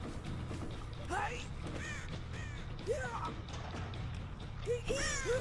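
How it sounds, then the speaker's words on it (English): Crows caw several times inside a building in the video game Dead by Daylight, short harsh calls scattered over a steady low ambient drone, with a voice talking over them. "I don't know why there are birds in this building."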